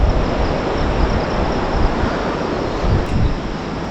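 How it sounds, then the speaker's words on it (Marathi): A loud, constant broadband rush of the Sangti river flowing in Arunachal Pradesh, steady throughout with no pauses or voices. "मागेच नदी वाहते नदीचा आवाज पण येतो"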